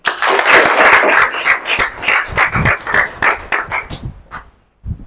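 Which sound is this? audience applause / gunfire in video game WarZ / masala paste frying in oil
audience applause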